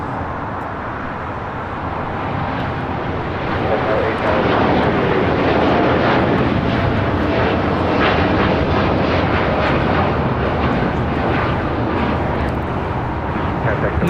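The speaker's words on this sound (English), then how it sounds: "Now taking off is Japan Airlines Flight 69, taking off to Osaka on the 787-9 Dreamliner." A Japan Airlines Boeing 787-9 Dreamliner takes off from LAX bound for Osaka, a powerful, continuous engine roar that swells after a few seconds and stays loud, with wind rumble against the microphone.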